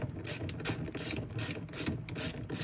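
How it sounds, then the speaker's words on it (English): A 10 millimeter socket ratchet clicks in quick repeated bursts while backing off nuts behind a Volkswagen Beetle dash grab handle, close and crisp with a steady pawl rhythm. "get yourself a 10 millimeter socket. Let's get the nuts off for the grab handle."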